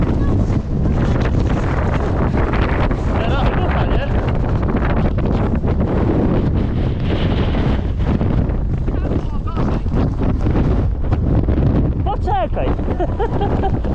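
Strong gusts batter the microphone on a mountain trail at Czerwone Wierchy in the Tatras in October, a loud, continuous roaring rumble while people talk over it.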